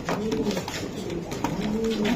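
Racing pigeons, a new pair, cooing softly nearby in a pigeon-keeping setting, with low throaty coos rising and falling over faint background murmur.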